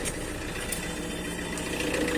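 A 2012 Tata Safari Dicor diesel SUV engine idles steadily with a low, even rumble and faint rhythmic knocking, continuous and close by with no talking.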